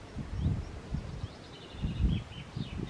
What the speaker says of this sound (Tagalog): maririnig mo talaga yung mga huni ng ayan o, yung mga huni ng ibon